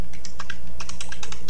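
Quick bursts of keystrokes on a computer keyboard as a file name is typed while saving a design in Corel Draw X7, close and crisp with uneven rhythm, no voices.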